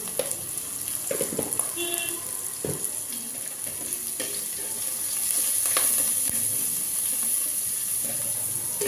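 Soft sizzling and crackling from a pan of vegetables sautéing with turmeric for a snake gourd stir-fry, steady and close, with occasional clinks of a utensil and a faint background hiss.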